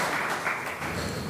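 An audience claps to welcome guests at a law program event, a brief steady wash of many hands clapping, moderately loud and roomy, with no voices over it.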